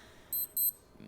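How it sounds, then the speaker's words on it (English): A wristwatch alarm gives two short, high electronic beeps in quick succession over a quiet background. "beep beep, my watch again."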